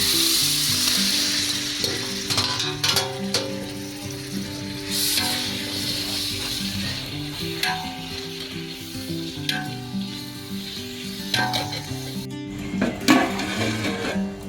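Chopped tomatoes sizzle loudly in a hot pan while a spoon scrapes and stirs, with occasional clinks against the pan's sides.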